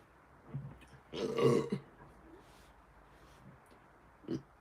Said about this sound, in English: I wanted to make a video last time I was burping so much